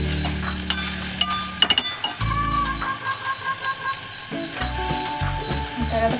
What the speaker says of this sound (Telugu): ఒకసారి కలపండి, ఇంత కలిసేలా కలపండి.